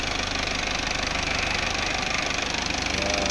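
A car engine idles steadily at close range with a rattly, mid-pitched running note and a continuous faint high whine, the engine fitted with a large, wide radiator; no one speaks.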